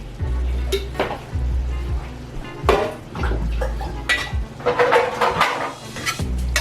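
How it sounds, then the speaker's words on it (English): Zucchini lasagna sauce with mushrooms being stirred in a well-used pan, with scraping utensil strokes against the metal and a soft sizzle underneath, in irregular bursts. "Let's give that a quick stir."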